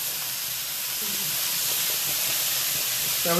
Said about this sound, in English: In the pan, of course, we've got the ground beef chunks. They're just cooking.